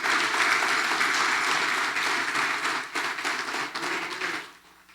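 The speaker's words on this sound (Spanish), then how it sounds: "Denle un fuerte aplauso al Señor." A church congregation claps loudly in a sustained, even round of applause during a Spanish-language service, the clapping fading away over the final second.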